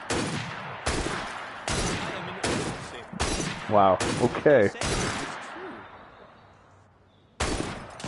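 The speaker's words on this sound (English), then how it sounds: "That sounded like a second gunshot." Gunshots in the video game Assassin's Creed Syndicate: a rapid series of loud, sharp cracks in an even rhythm, with a brief spoken exclamation among them, then a pause and one more shot.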